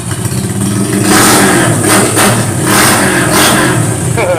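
Close and loud, an old Honda CB motorcycle's engine is blipped again and again, each rev climbing sharply and falling back to a rattly, uneven idle, with brief talking mixed in.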